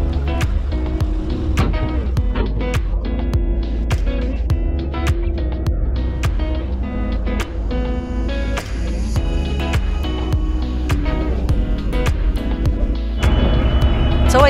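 Tall campervan backing onto a car ferry in Shetland, engine idling low under repeated rhythmic beeps and clanks from ramp and vehicles, loud and close throughout.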